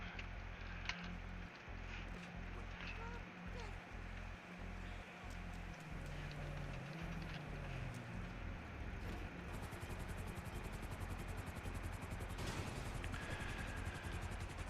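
A steady low rotor thump and engine roar drone continuously throughout from a helicopter flying nearby in the video game GTA Online, with a brighter whine building toward the end.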